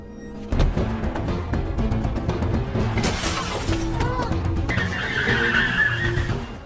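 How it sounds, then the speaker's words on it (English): A car speeds off with tires skidding and squealing amid crashing and shattering impacts, a busy, loud sequence of sharp hits and screeching. "runs to his car and speeds off"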